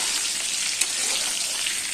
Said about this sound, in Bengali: এখানে দুজন আলু ভাজছি